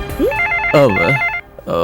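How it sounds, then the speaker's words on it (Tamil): Telephone ringing indoors in a Tamil TV serial scene, two loud electronic ring bursts with a short gap, with a voice speaking over the start. "பாரு ஃபோன் அடிக்குது"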